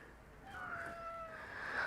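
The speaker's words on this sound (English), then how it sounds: "I just had a little cat coming in to visit." A cat meows once indoors during a Pilates session, a drawn-out rising-and-falling cry against a quiet room background.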